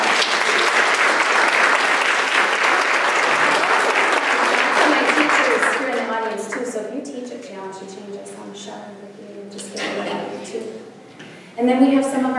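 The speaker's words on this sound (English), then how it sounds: "So let's give her a round of applause." An audience at an evening lecture gives a loud, steady round of applause for about six seconds before it fades, and talk and scattered voices follow.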